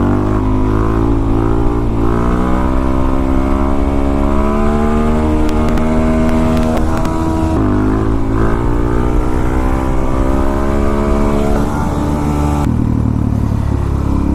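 Loud motorcycle engine, a Yamaha FZ-09 or Suzuki DR-Z400, revving hard at full throttle for a wheelie, a continuous close roar with pitch rising and dropping through gear changes and throttle blips.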